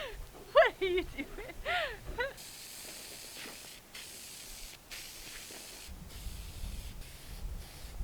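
Sprayer hissing against the sides of a house on an off-grid build site, a broad steady spray in long stretches with brief pauses, while a person talks at the start.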